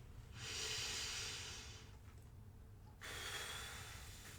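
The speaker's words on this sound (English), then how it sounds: "I'm breathing loudly because it's a video." Loud, close breathing during a singer's stretching routine: a long airy exhale, a brief pause, then another strong breath, with no talking.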